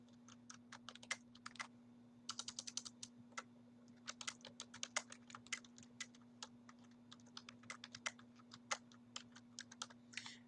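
Quiet, uneven clicks of a computer keyboard as a message is typed, with brisk bursts and short pauses over a faint steady hum.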